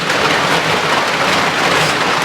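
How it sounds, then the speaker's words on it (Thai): Heavy rain pours down in a dense, constant roar, loud and close, with no break and no voices heard over it. "โอ้ยฝนนี่"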